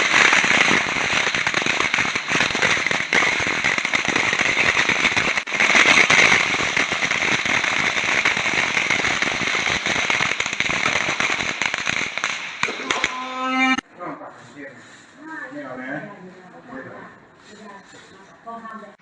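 Firecrackers exploding at a Thai ceremony, a long dense burst of rapid crackling and popping for about thirteen seconds, loud and continuous, then cutting off to quieter background sounds.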